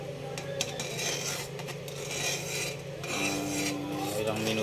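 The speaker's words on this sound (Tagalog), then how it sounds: "kailangan hinahalo siya ng mabuti dahil dumidikit sa gilid" A spoon scraping and rasping against a pan while stirring a thick goat's milk pastillas mixture, steady and close, with a low hum from a stove or fan beneath it and no talking.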